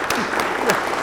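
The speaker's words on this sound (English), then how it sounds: "Let's give them another round of applause." A crowd claps for the official party at a military retirement ceremony, dense and fairly loud throughout this short stretch.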